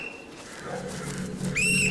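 A whistle shrills near the end of a drill, a bright sustained blast with a wavering pitch, rising out of low background noise and murmuring voices.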